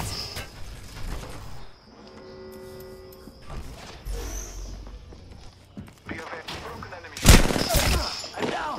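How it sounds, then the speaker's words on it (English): Gunfire from the Apex Legends video game comes in scattered bursts of shots over ongoing game sounds, with one sharp loud shot late in the clip, mixed with footsteps and mechanical clicks. "Getting shot at."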